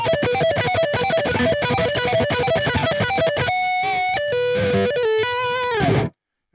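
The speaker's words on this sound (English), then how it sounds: "then it sounds like this when it's played fast with economy picking" Rapid, bright electric guitar notes in a fast economy-picked run, densely picked with a distorted edge, then a few sustained notes before stopping abruptly.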